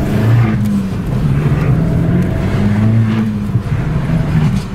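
Car engine revving loudly and close up, a steady deep throaty rumble with rising and falling pitch, no talking over it.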